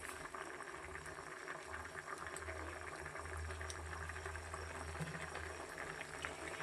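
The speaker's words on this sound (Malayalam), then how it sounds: "നമ്മുടെ ഈ മീൻ കറി ഇതാ തിളച്ചു" Fish curry bubbling in a pot on the stove, a steady low simmering burble with soft popping that runs continuously and evenly at moderate level, no voices present.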